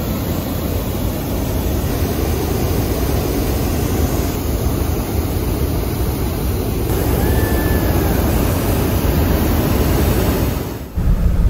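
A hot air balloon burner fires on the ground at a balloon fiesta's static display, a loud continuous roaring blast that holds steady for several seconds before cutting off briefly near the end.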